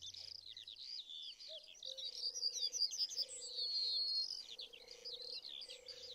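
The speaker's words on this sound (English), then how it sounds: "And all around, wherever you listen, the landscape is filled with birdsong." Birdsong fills an English hay meadow, many birds chirping and trilling together in a dense, continuous chorus with a steady low drone running beneath.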